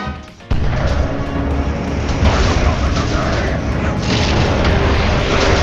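A tower collapses in the video game Dota 2 with a sudden loud boom and crash, followed by dense, continuous battle rumble and impacts.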